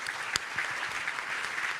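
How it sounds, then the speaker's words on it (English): An audience applauds the panelists at a World Bank report launch in Indonesia, steady mid-distance clapping held throughout with one sharper clap near the start. "a big round of applause to the panelists"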